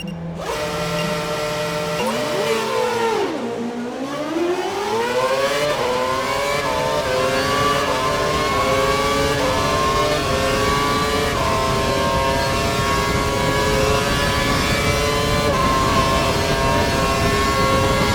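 A Formula 1 car engine in the F1 2012 racing game screams as it overtakes, pitch dipping at a gear change then climbing steadily in a long, loud, continuous rising whine.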